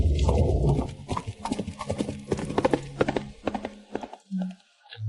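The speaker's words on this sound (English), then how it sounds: "galloping wildly within the city walls" A horse gallops through city streets inside the walls, its hooves clattering in a quick, loud clip-clop rhythm up close, then slowing, with a short whinny near the end.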